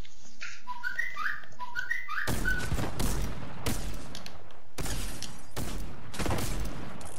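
Gunfire in Fortnite cracks out in a series of loud bursts, with a short whistled tune before the first blast and irregular heavy shots following close together.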